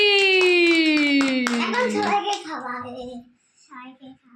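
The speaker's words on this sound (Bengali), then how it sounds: "হাততালি হাততালি" Hands clapping at a child's birthday party, several quick claps over a sustained singing voice and a child's chatter, fading into quieter speech toward the end.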